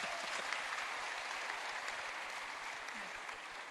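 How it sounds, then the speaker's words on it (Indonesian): Steady, dense applause fills the hall at a crypto regulation event, an Indodax presentation, holding at an even level throughout without a break. "kasih tepuk tangan dulu."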